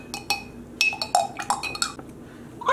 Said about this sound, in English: starting with the least concentrated, we will stir all of these up